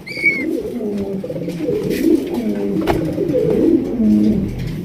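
Pigeons at a Bangladeshi pigeon farm coo in deep, throaty, rolling calls, several birds overlapping close by in a continuous warbling murmur, with a brief higher chirp at the start.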